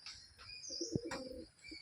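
A pigeon perched high in a loft coos once, close and soft, among faint chirps and a little rustling; no one speaks.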